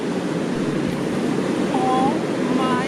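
Ocean surf rolls steadily onto the shore at Fuerteventura, a continuous broadband wash with wind noise and a couple of faint tonal chirps near the end.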